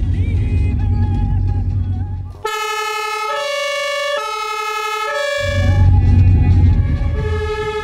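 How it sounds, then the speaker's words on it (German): A two-tone German emergency vehicle siren (Martinshorn) blares up close for several seconds, with low vehicle engine rumble before and after it. "Sobald das Martinshorn ertönt, geht das Autoradio aus und ein Lämpchen blinkt."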